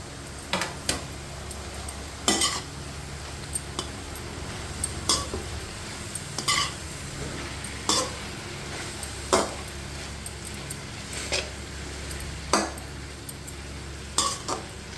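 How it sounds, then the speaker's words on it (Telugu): Fenugreek leaves and chopped tomatoes being stirred in a pan, with a utensil scraping and knocking against the metal in repeated sharp strokes every second or two over a faint, continuous sizzle, close and without talk. "ఇప్పుడు టమాటా యాడ్ చేసేద్దాం కలుపుతున్నాం బాగా"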